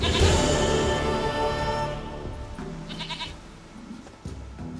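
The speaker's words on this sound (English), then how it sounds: "Goat of mine, dearest," A goat in The Witcher 3 video game bleats loudly and close up at the start, followed by quieter animal and ambient game sounds.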